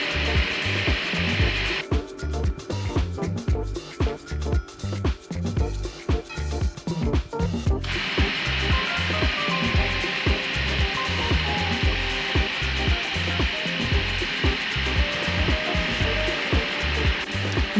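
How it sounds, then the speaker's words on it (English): Fresh horseradish ground into a paste in a grinder: a steady, loud ratcheting, rubbing mechanical churn with rhythmic grinding pulses running throughout, close-up and unbroken. "as we go and it starts to get more ground, I'm adding the vinegar"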